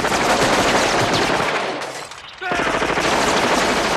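Dense, sustained gunfire from a scene in the 1990 film Total Recall, with rapid overlapping bursts that briefly drop out midway before resuming loudly.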